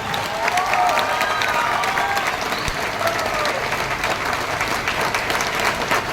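A large audience at a speech event claps loudly and continuously, a dense crowd of applause with some cheering mixed in, holding at an even level for the whole stretch.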